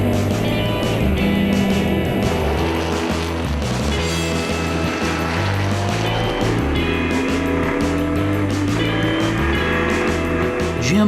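Race cars circling a track as front runners lap slower cars in an endurance race with pit stops and driver changes, giving a loud, continuous engine drone with shifting pitches as cars pass.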